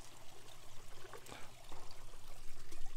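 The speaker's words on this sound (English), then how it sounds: "get some water out of the pond." Pond water scooped into a bucket in a backyard pond, a soft irregular pouring and trickling splash that builds toward the end, close by with a low steady hum underneath.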